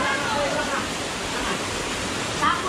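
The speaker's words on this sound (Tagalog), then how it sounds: "Yan po yung falls." A waterfall on a remote mountain trail roars as a steady, broadband wash of falling water, loud and close, with faint voices mixed in.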